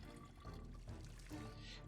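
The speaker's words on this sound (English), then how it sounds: "Let's drink up, fill our water bottle." Water pours into a water bottle in the survival game Project Zomboid, a short, faint, steady stream of running liquid with no talking.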